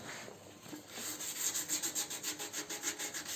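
Rhythmic back-and-forth strokes of 400-grit sandpaper on an electric guitar's wooden neck, about a dozen quick even passes, close and fairly quiet.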